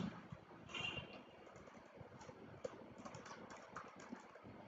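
Someone types on a computer keyboard while setting up a Python Django project, producing quiet, irregular close key clicks in short bursts with no talk.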